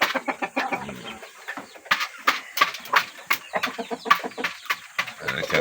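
Pet chickens clucking and squawking close by, a busy run of short repeated calls from several birds with scratchy movement between them.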